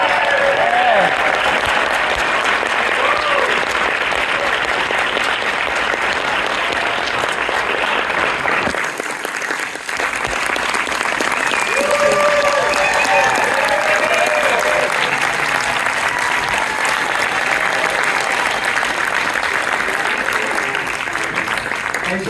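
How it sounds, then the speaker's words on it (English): An audience at a Los Angeles film screening and Q&A gives a long, loud round of applause, dense and sustained clapping with some crowd noise, continuing without a break for over twenty seconds. "give them another round of applause"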